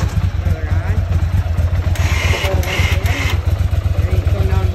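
A four-wheeler ATV fitted with a KFI snow plow runs at a steady, loud idle nearby, its low throbbing engine hum constant throughout.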